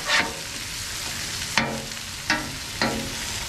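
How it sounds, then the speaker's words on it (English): Shrimp sizzling steadily on a 22-inch Blackstone Adventure Ready griddle for hibachi-style fried rice, with four sharp scraping spatula flips cutting through the constant hiss, close up and without talk. "We're going to give our shrimpies a flip."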